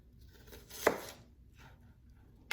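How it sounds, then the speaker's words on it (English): Knife cutting a small Vidalia onion on a board, one crisp chop near the start and another at the end, quiet and close with near-silence between. "I'm starting out with a small Vidalia onion. Of course, I'm just going to cut it up."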